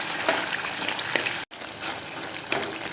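Curry paste with curry leaves sizzling wetly and bubbling softly in a pan on a medium flame, with a brief gap partway through, no voices.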